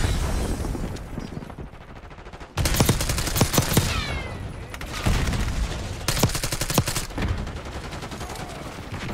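Rapid automatic gunfire bursts and single shots in Call of Duty Black Ops 6, loud and close, in repeated volleys separated by brief pauses.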